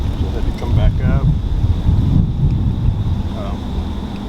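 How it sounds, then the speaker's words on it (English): Gusty wind buffeting a camera microphone on the bank of the Ohio River, a loud, constant low rumble that surges and dips, with faint chirping sounds briefly in the background. "It's a little breezy. I don't have a good windscreen with me"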